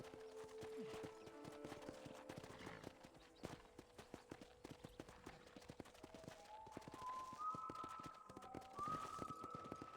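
Steady clip-clop of horse hooves at a walking pace in Red Dead Redemption, with a synthetic tonal melody rising over it; no talking.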